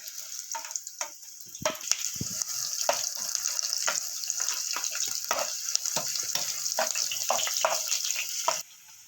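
Ginger, onion and garlic sautéing for frog adobo: a loud, continuous sizzle close by, broken by frequent scraping stirs, and it cuts off sharply near the end with no talk.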